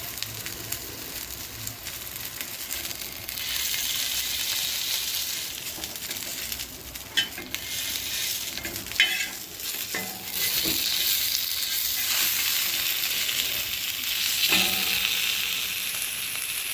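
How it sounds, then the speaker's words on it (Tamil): Chicken toasting in an oiled pan with about half a spoon of oil, sizzling steadily and fairly loudly, with occasional stirring and scraping sounds over the hiss. "இதை வந்து ஓப்பன் பண்ணி இப்போ வந்து டோஸ்ட் பண்ணணும்."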